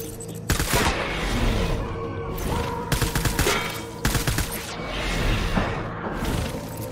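Gunfire in Death Stranding, with repeated loud bursts of shots and sharp crackling impacts breaking over a dense battle din, some hits up close and others trailing off.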